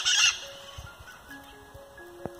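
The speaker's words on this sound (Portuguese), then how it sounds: "Olha as aves, que lindas. Tudo cantando aqui" Chickens and other birds cluck and call in an outdoor yard, a loud burst of calls at the start followed by softer scattered clucks and chirps, with one sharp call near the end.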